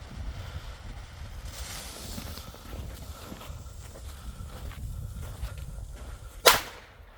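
A single sharp, loud bang of a small PP1 firecracker near the end, after several seconds of faint outdoor wind and rustling.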